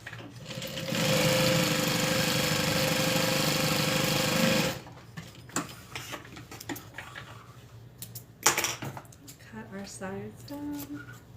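A sewing machine runs in one steady, fairly loud burst of about four seconds while joining fabric pieces, followed by quiet handling noises and someone talking.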